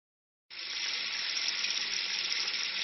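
Water pours steadily from a tap, a continuous close hiss of running water that begins abruptly after a short silence and holds even to the end.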